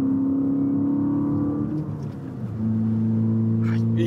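A Toyota car engine pulls after a shift into fourth gear, a loud steady drone that dips briefly mid-clip during the shift and then rises again at a lower, heavier pitch, heard close from inside the cabin.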